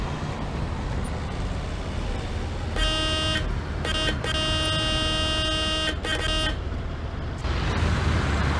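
Bus horn honks in Bus Simulator 18, a few sustained tonal blasts of a city bus horn in broken bursts over a steady engine and road rumble, with no voices.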